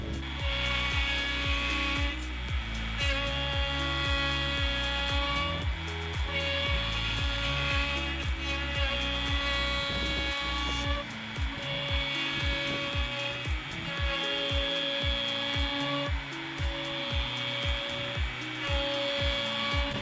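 A trim router rides a sled across a large wood slab to flatten it, giving a steady, loud high-pitched whine with shifting tone as it moves back and forth, plus low rumbling passes and no talk.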